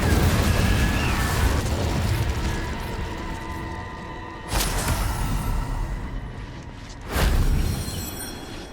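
Incendio fire spells are cast in Hogwarts Legacy as sharp bursts with a whoosh, one about midway and another near the end, set over a steady rumbling game background.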